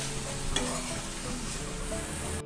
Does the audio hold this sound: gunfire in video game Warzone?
no